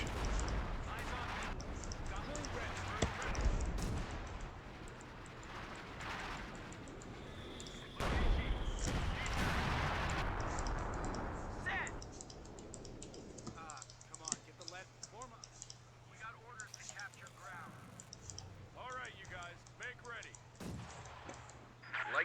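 Gunfire and artillery blasts in a Company of Heroes 2 battle, sharp bursts and booms scattered through the opening half and trailing off into sparse shots, with keyboard typing and clicking and a voice talking throughout.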